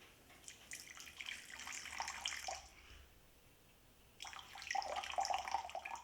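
Water pours to make brine for focaccia, two close bursts of splashing liquid separated by a short quiet gap, fairly soft with no talking.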